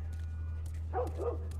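Dog barking in The Last of Us PS4 remaster, two short, distant yips over a constant low hum, with no talk.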